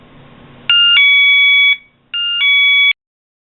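A Bunker Hill wireless security alert unit sounds at high volume, giving two loud electronic multi-tone chimes separated by a short gap, close and alone with no talking.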